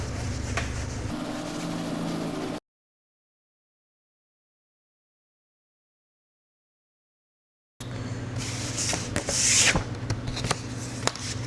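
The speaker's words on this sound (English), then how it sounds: "We'll start again by wiping any dust, debris," Cloth wiping dust and oils off the bottom panel of an Asus Zephyrus G16 (2026) laptop: close, soft rubbing strokes in two stretches separated by a long silent gap, the second stretch busier with a few sharper swipes.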